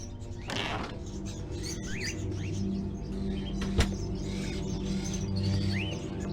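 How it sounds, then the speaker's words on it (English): Rats squeak repeatedly in the video game Indigo Prophecy, small high chirps scattered over a steady low ambient hum, with one sharp click partway through and no talking. "Seems like I hear a lot of rats too."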